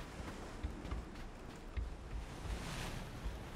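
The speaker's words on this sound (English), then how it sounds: "Hearing a lot of water sounds." Rushing, surf-like water noise in the PUBG Miramar map, a steady broad wash with soft gusty swells and occasional dull thumps, filling the scene without any talk.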